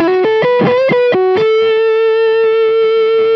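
Electric guitar run through two effects pedals plays a quick run of distorted, sustained notes, then holds one ringing chord loud and alone.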